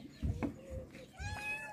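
A cat meows close by in an Egyptian town full of street cats: a short call, a softer one, then a longer rising meow, heard alone without talking.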